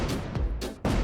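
Booming explosion effects for a game burst in quick succession, heavy low-end blasts with noisy crackling tails, loud and close with no voices.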